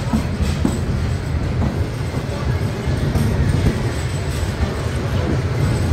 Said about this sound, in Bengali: বন্দর নগরী চট্টগ্রাম রেলওয়ে স্টেশন ছেড়ে যাচ্ছে।